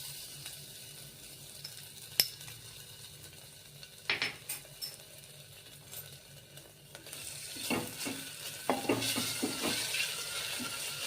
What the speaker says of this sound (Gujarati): સૌપ્રથમ આદુ, મરચાં અને લસણ વાટેલા છે તે એડ કરી દેશું.